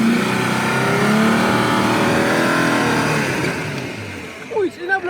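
A Nissan Xterra off-road SUV climbs a steep hill in a hill-climb challenge, its engine revving in a loud, sustained strained roar that eases toward the end, when a few brief voices come through.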